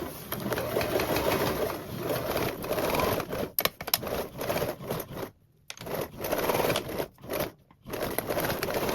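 Sewing machine back-tacking and stitching a duffle bag seam with a quarter-inch allowance, bursts of rapid whirring broken by short pauses and brief stops as the machine starts and halts.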